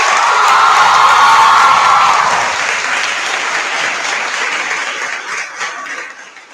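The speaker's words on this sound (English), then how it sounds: "Everyone, please give a big round of applause." Loud audience applause at a college valedictory function, dense clapping with some cheering that peaks early then gradually thins and fades.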